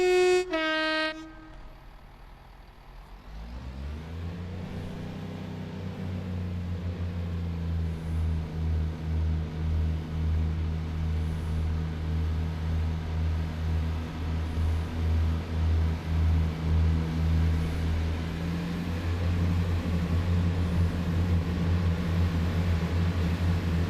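A train horn sounds at the start, then a low rumbling engine hum builds and holds steady with rhythmic clatter as a Great Western train gets moving and pulls away, in a train simulation video game.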